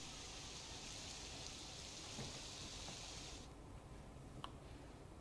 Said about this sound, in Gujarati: આજે વહેલી સવારથી ઉમરપાડા તાલુકામાં સાર્વત્રિક વરસાદ નોંધાયો છે